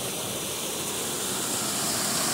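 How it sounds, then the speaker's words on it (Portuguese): A swollen river in flood rushes under a road bridge after heavy rain, giving a loud, steady, broadband roar of churning water with no pauses. "Transbordou, é muita água, velho."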